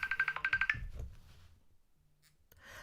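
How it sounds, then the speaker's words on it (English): A phone ringtone plays a quick pulsing electronic trill for under a second. Then comes a low rustle and a quiet pause before faint background noise returns. "Oh, I can't answer the phone now."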